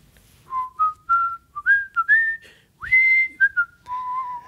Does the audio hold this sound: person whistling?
yes